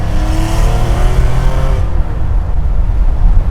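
A 1973 Porsche RSR race car with a 320 hp engine revs loudly and close, its note rising in pitch before fading into a rough, steady rumble.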